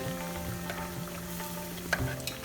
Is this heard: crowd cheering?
no